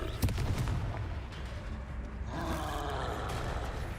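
A Confringo blasting spell goes off in Hogwarts Legacy, a sharp crack followed by a deep, booming blast and a rumbling roar that carries on for a few seconds.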